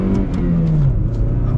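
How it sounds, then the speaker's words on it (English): A 2007 Chevy Cobalt SS accelerating at full throttle, its engine note rising steadily and loud from inside the car, with a continuous throaty drone and a climbing pitch before settling. "We are going to get our full-blown acceleration here with the Cobalt"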